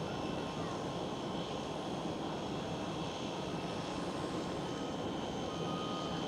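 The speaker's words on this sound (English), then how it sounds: "Right there goes Lots Police Airlines. Taking off from runway 18 left." A LOT Polish Airlines airliner taking off from runway 18 left at Amsterdam Schiphol, a steady, broad engine roar that holds level throughout, heard from a distance.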